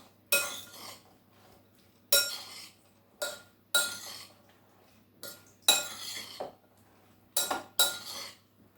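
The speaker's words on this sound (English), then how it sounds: "And we'll just mix that all up together." A spoon scrapes and clinks against a bowl in separate bursts while peach pie filling is mixed with honey, each stir a short metallic clatter with quiet gaps between and no talking.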